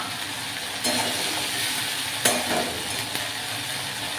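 Spices and ginger fry in hot oil in a pan for a Bengali greens dish, giving a steady crackling sizzle with a few sharper spatters and a stir or two, close and alone with no talk.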